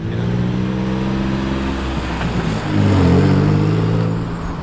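Infiniti G35 six-speed coupe engine revving steadily, a loud, close low drone with rich harmonics that dips briefly, then swells louder before easing off, with no talking.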